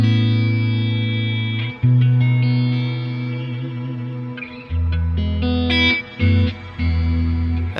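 Electric guitar chords played through a shimmer reverb in Loopy Pro, sustained tones with a lush, wide reverberant tail and bright upper octave haze, changing chords every second or two with no talking.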